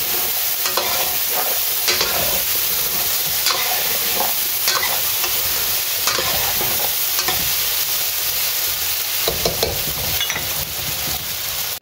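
Potatoes fry in a pan on a home stove with a constant loud sizzle, while a utensil stirs and scrapes them in irregular bursts throughout.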